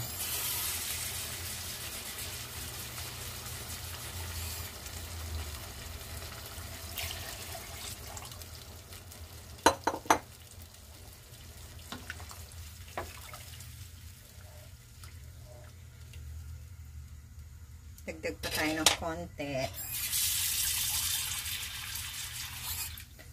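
Water saved from rinsing a bowl is poured into a pot of pork menudo cooking in oil, a soft, quiet splashing with a few brief clinks, while a voice speaks briefly.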